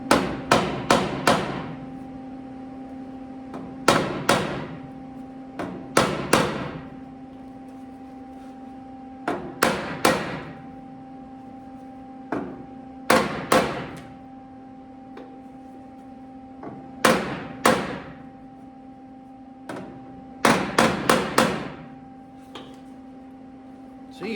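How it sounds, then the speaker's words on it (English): Metal hammering on the cowl of an International Loadstar truck during rust repair: bursts of several sharp ringing blows, repeated in groups every few seconds, with a steady hum underneath. "maybe we can hammer it, I guess."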